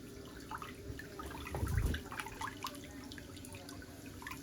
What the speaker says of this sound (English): that foot can go back into the water